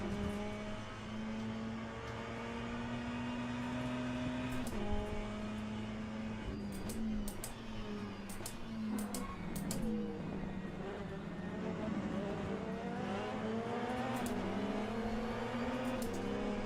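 LMP2 prototype race car engines in the Le Mans Ultimate sim racing game, heard from outside the car: a steady droning engine note with shifting harmonics as revs rise and fall, with occasional sharp clicks and some talk mixed in throughout.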